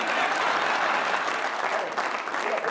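An audience at a French hidden-camera television show applauds, a dense, steady wash of clapping from many hands that stays loud for the whole stretch.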